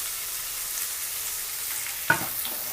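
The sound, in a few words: stir-frying spring onions and capsicum in a pan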